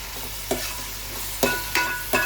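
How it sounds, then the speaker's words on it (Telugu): Tomato and spring onions fry in a pan for a fish curry, a steady close sizzle with a few sharp scraping strokes of a spatula stirring at irregular intervals, no voices. "ఇప్పుడు ఇది వేగుతుంది కదా"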